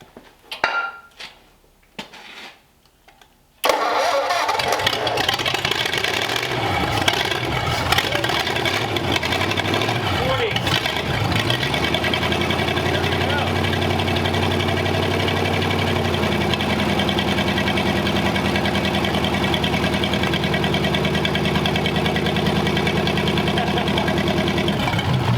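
A Ford flathead engine cranks after a few quiet seconds, then catches and settles into a loud, steady idle close by, running evenly with a faint metallic rattle throughout.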